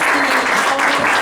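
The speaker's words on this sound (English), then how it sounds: "I think we all owe Ray a round of applause" A room of people at a Republican Central Committee meet-and-greet and voter registration event applauds loudly and steadily, a dense wash of clapping filling the whole moment.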